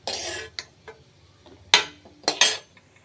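Roasted cashews clatter into a bowl in a few short bursts, with light clinks of a spoon against the dish and quiet pauses between the pours.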